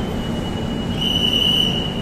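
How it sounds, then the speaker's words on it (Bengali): The Coromandel Express rumbles steadily nearby as it departs Shalimar station, with a thin high metallic squeal rising from the wheels partway through. "এইমাত্র করমণ্ডল এক্সপ্রেস শালিমার স্টেশন থেকে ছাড়লো।"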